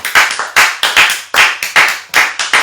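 A church congregation at a worship service claps in acclamation, with a steady run of about eight loud, evenly spaced handclap bursts close by and no talk.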